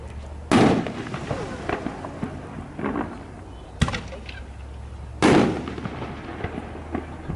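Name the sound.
FMJ artillery shell fireworks being shot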